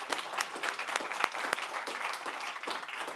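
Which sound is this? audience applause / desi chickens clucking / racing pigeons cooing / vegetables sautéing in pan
audience applause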